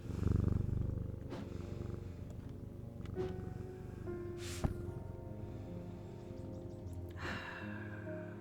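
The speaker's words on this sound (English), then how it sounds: "Kitty." A cat purrs steadily in the video game Strange Antiquities, a low continuous rumble heard alone, with a few faint soft clicks and a brief sharp tap midway.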